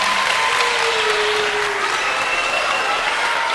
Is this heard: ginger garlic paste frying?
no